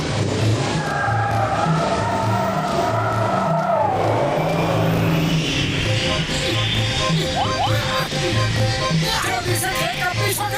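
A cartoon flying car with a loud continuous engine drone that pulses rhythmically, a rising whoosh partway through, and busy background music and effects over the whole stretch.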